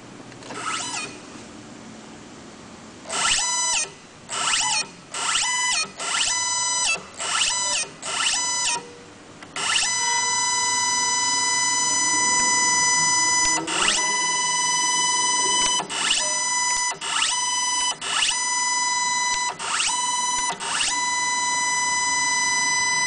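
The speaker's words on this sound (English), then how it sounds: "So when I change my signal, the motor activates, repositioning the valve." An electric actuator motor on a fuel gas valve whirs in short repeated bursts as it repositions the valve, then runs in a longer sustained drive punctuated by clicks, loud and close with no talk.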